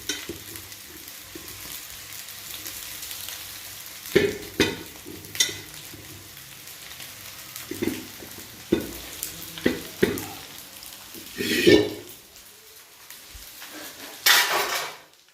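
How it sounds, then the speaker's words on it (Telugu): Plain cooked rice for chicken schezwan fried rice is tossed and fried in a pan, with a low sizzle under repeated loud clanks and scrapes of a metal spatula against the pan in irregular bursts, and no talk. "సో ఈ విధంగా వేసి దీన్ని బాగా ఫ్రై చేయాలన్నమాట"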